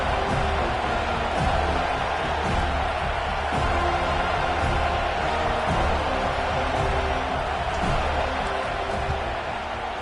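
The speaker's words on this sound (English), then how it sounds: "This crowd trying to do its part to get inside the kicker's head" A large football stadium crowd roars loudly and continuously as a field goal attempt lines up on fourth down, a dense wall of sustained noise with no clear voice above it.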